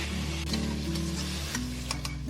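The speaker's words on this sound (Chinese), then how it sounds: "给它翻炒均匀，炒出酱香味。" Dried tofu stir-fried in a hot pan with salt, sugar, mushroom seasoning and soy sauce: a steady close sizzle with repeated scraping strokes of the spatula, no talking.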